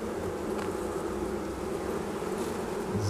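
Honeybees hum in an opened beehive, a dense, continuous droning buzz from many insects close to the listener, steady and loud throughout with no speech.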